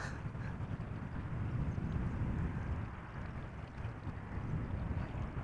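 An airplane arriving at Amsterdam Schiphol Airport, a steady low engine roar heard from a distance with wind buffeting the microphone, holding fairly even throughout without talk.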